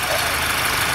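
A Volkswagen/Audi EA888 second-generation CCZ petrol engine with about 80,000 on it idles just after starting, giving a quiet, steady, even hum with no other sounds over it.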